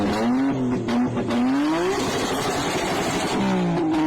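A Nissan GT-R engine revs loud and close, its pitch sweeping up and down in smooth continuous pulls with a steady roar underneath.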